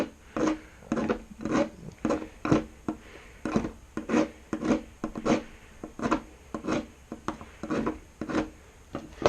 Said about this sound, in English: So you just want to put a small bevel on here.